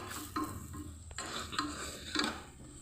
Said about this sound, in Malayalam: കുറച്ച് ഗരം മസാല ചിക്കൻ മസാല കൂടി ചേർത്ത് കൊടുക്കുന്നുണ്ട് എന്നിട്ട് നന്നായിട്ട് വഴറ്റി കൊടുക്കാം